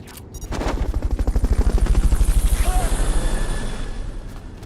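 Helicopter rotor in the video game Metal Gear Solid Peace Walker during a Fulton recovery, a loud, rapid rhythmic chopping that swells and then fades over several seconds, heard alone.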